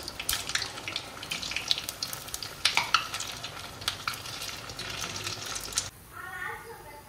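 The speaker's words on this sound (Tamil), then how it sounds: "இப்போ இதை அப்படியே எண்ணெயில் போட்டுடலாம். உடனே வந்து ரோஸ்ட் ஆயிரும்." Bread snacks fry in hot oil, giving a close, steady crackling sizzle with sharp pops that suddenly drops to a softer bubbling near the end.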